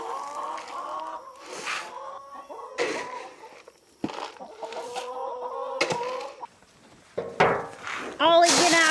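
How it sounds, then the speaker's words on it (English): Chickens on a farm cluck and squawk busily up close, a run of overlapping calls and short bursts that rise and fall, with a little human talk mixed in. "All the chickens are hoping that you give them some or you spill some."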